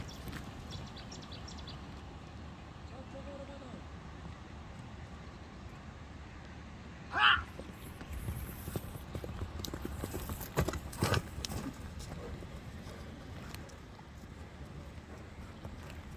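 A brown horse moving at an ambling gait near a stream crossing: steady, fairly quiet hoof clip-clops under outdoor wind, with a sharper knock around the middle.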